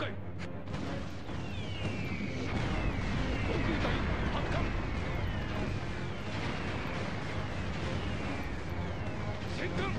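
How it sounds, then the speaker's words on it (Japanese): Naval artillery bombardment in the PS2 naval war game Teitoku no Ketsudan 4, a dense continuous rumble of booms and explosions with descending whistling shells, loud and unbroken throughout. "あとは砲撃を行っていきます"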